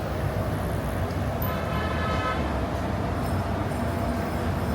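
A Metro-North train rumbles past in the Bronx during a summer heat wave, a steady loud roar of rail cars on track filling the whole stretch, with faint talk beneath.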